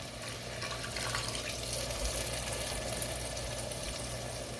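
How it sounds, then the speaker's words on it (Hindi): Water splashes steadily into a pan of tomato masala being cooked for ridge gourd sabzi, a continuous close, even pouring hiss that lasts throughout with no talk. "अब मैं यहाँ पे थोड़ा सा पानी ऐड करूँगी ताकि हमारे टोमेटोज अच्छी तरह से गल जाएं।"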